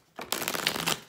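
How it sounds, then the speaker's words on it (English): A Rider Waite tarot deck gets one quick, close shuffle, a papery riffling burst just under a second long, with no talking. "I'm going to be pulling from a Rider Waite deck"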